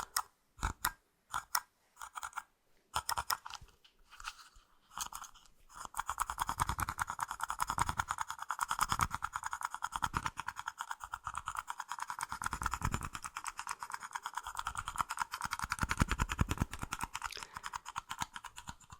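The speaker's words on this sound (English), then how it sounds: "the sound stops and you get only the clicking sound that I like quite a bit." Crisp, rapid clicking from a small handheld ASMR trigger item with a latch runs steadily and close up, preceded by a few sparse separate clicks and short pauses, with no talking.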